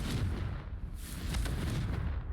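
Fiery blast from the Confringo spell in Hogwarts Legacy, a deep rumbling explosion with crackling bursts that rolls on loudly for a couple of seconds, with no talking.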